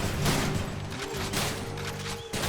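Rapid gunshots with reload clicks in the video game Hades, a steady stream of repeated blasts and mechanical clatter, loud and close, with no talking.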